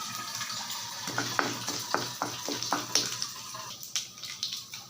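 Urad dal and chana dal spluttering in hot oil in a Tamil home kitchen, a soft crackle of quick pops and sizzles over a steady hiss, fairly quiet throughout.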